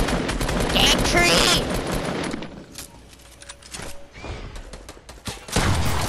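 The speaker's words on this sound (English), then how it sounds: "Why am I using a shotgun?" Shotgun blasts in Fortnite, a loud cluster of gunfire at the start, a quieter gap with scattered hits, then another burst near the end, mixed with a player talking.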